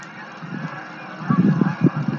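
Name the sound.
geese honking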